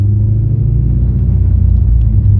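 Manual-transmission car engine pulling away under light throttle, a loud, close, steady low rumble that swells slightly as gas is added.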